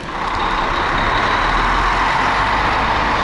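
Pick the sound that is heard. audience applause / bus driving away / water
bus driving away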